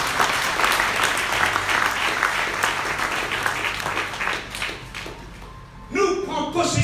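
A church congregation applauds and cheers, a steady wash of clapping and crowd noise that swells and then thins, with a voice breaking through near the end.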